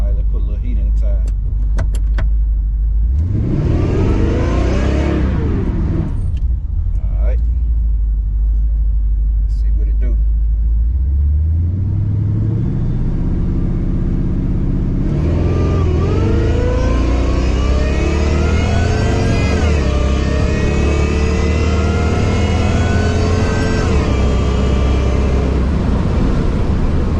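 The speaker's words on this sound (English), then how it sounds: "Alright, let's put a little heat in the tire." A supercharged Cutlass drag car revs and roars on a hot day to build heat in its tires. The engine is loud and close, with rising and falling pulls over a deep rumble, and people talk during it.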